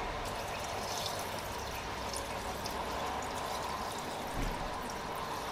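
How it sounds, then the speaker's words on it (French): Water poured steadily into a shallow aquascape tank, a continuous close splashing stream with one brief heavier gush near the end. "Je vais mettre un petit peu d'eau."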